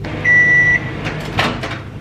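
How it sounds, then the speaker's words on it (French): A microwave oven heating porridge gives a single loud, clear beep, then its door clunks and clatters near the microphone over a low hum. "remettre au micro-ondes 30 secondes et puis faire ça jusqu'à ce qu'il soit bien gonflé"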